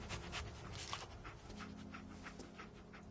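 Dogmeat, the dog companion in Fallout 4, pants in quick rhythmic breaths, close and fairly soft, with a slight whimper, over quiet game ambience.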